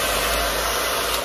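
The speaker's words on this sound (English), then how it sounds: "the best way of getting everything dry is to have a hairdryer" A hair dryer blows with a steady, loud whooshing roar that holds constant throughout.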